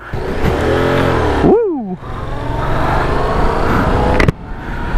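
A Yamaha MT-07 motorcycle idles loudly nearby, then its engine and exhaust blip up and fall back in a quick rev before settling into a rough, steady rumble.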